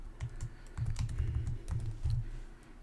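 Rapid typing on a computer keyboard, steady clusters of close, crisp key clicks with brief pauses between bursts, no voices.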